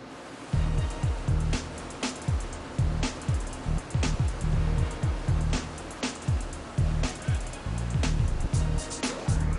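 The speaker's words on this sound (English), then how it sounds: "the potato slices enter this rotating steel drum, part of an 18-foot-long washing machine called the rinse hopper" Potato slices tumble inside a rotating steel drum of an 18-foot rinse hopper washing machine, with rhythmic repeated whooshing surges of water and low churning thuds, close and continuous.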